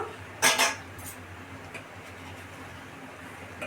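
A pot of cooked, reduced chicken is lifted off a stove, with a metallic clank and scrape of the pan near the start, then a quieter tap later over faint kitchen hum.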